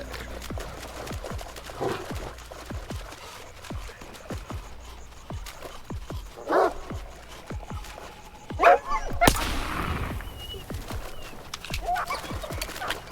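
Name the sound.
dogs in the video game STALKER 2: Heart of Chornobyl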